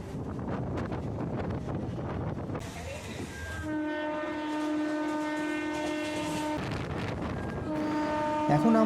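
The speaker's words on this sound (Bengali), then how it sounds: "আমাদের ট্রেন এসে থেমেছিল পাঁচ নম্বর প্ল্যাটফর্মে" Uluberia–Kharagpur local train standing at a station platform, with a steady electric hum and sustained tonal whine from the train under a broad rumble of station noise and wind buffeting the microphone.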